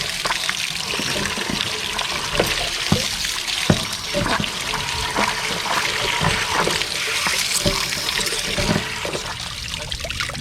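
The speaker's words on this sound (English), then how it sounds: "Back and forth, spin the wand around so you can get a really good flush." Water gushes and sputters from the drain of a Dometic GC6AA-10E RV water heater tank as a flushing wand is swept back and forth inside it. The rush is loud and continuous, broken by sharp splashy bursts, with no speech.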